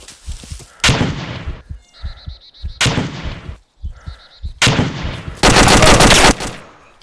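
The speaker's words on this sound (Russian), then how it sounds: "Откуда стрельба-то была?" Video-game gunfire in ArmA 2 rings out in several loud, sharp bursts, some single shots and some rapid automatic strings, separated by short pauses. A final dense burst runs over a second.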